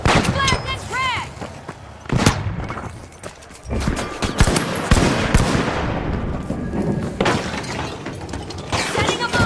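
Flashbang and frag grenade blasts in a tactical shooter game: sharp, loud cracks and shattering bursts at irregular intervals over a dense backdrop of gunfire and combat noise, with brief voice callouts.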